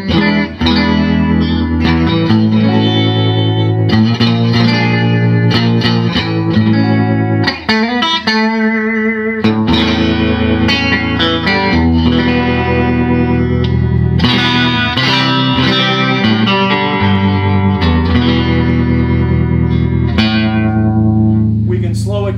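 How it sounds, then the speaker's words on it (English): A Magnatone guitar amplifier plays a continuous, loud electric guitar part with its stereo vibrato. The pitch-wavering sweep pans between two speakers without a break. "with frequency modulation, you're actually going to change the pitch of the note. And with the two different speakers,"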